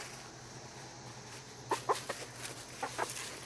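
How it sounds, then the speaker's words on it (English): A chicken being caught by hand gives a few short, sharp clucks and squawks in the second half, close but fairly quiet over a low steady hum. "Try to catch a chicken with one hand."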